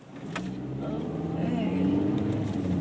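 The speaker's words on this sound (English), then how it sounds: "just have to wait for all these cars to go." Steady road traffic rumbling past at close range, engine drone and tyre noise building gradually over a few seconds, with faint talk mixed in.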